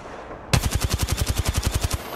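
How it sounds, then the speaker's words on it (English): Rapid automatic gunfire from the video game Apex Legends bursts in after a half-second of quiet, about fifteen evenly spaced loud shots in a steady rhythm, close and dominant with no talk. "Opening fire on the enemy."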